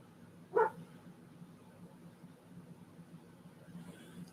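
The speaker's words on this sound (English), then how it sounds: "somebody drove by and he wants to bark at them" A dog lets out a single short bark at a car driving past, heard once near the start over a quiet indoor room hum.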